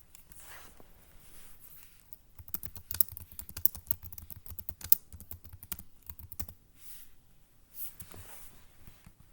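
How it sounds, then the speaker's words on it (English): Keys clatter on a Chromebook keyboard as a command is typed, with a quick burst of close, crisp keystrokes in the middle and a few scattered taps after it in a quiet room. "To do that, I'm going to type the following command."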